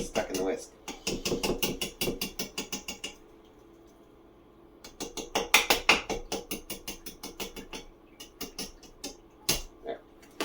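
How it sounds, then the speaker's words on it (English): Metal spoon clinking and scraping rhythmically against a bowl while stirring an apple juice dessert mixture, repeated quick taps in bursts with short pauses between. "let's use the spoon that I have just so I can stir it easy"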